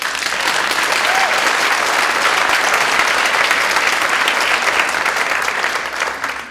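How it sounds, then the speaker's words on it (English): A theater audience at a live spoken-word show in Lehigh Valley breaks into loud, sustained applause, with a thick wall of clapping from a large crowd that barely eases before fading slightly at the end. "Clap for your own self."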